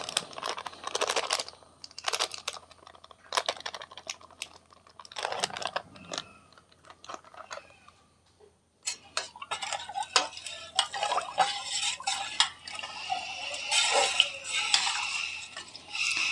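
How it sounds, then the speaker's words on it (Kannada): Ragi batter with salt and chili being mixed by hand in a pot, giving soft irregular clicks, scrapes and stirring taps, sparse at first with pauses, then denser and busier toward the end; no speech. "ಇದನ್ನೆಲ್ಲನೂ ಚೆನ್ನಾಗಿ ಕಲಿಸ್ಕೊಳ್ಳಿ"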